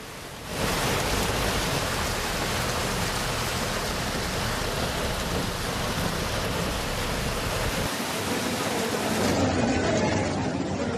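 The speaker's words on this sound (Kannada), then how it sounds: "ಧಾರಾಕಾರ ಮಳೆ ಸುರಿದಿಂದಾಗಿ ಮೆಜೆಸ್ಟಿಕ್ ರೈಲ್ವೆ ನಿಲ್ದಾಣದಲ್ಲಿ ಮೇಲ್ಗಡೆಯಿಂದ ನೀರು ಸೋರ್ತಾ ಇದೆ." Heavy rain pouring and water leaking through the roof at Majestic railway station in Bengaluru, a steady dense roar of falling water that fills the whole stretch at constant loudness, thinning slightly near the end.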